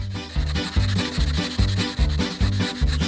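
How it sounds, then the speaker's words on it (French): Toothpaste scrubbed over a miniature dollhouse gives a rhythmic rubbing, sanding-like sound in steady back-and-forth strokes, close and fairly loud, with no talking. "Je vais utiliser du dentifrice. Et maintenant, je vais nettoyer la maison."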